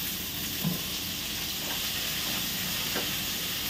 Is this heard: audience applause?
no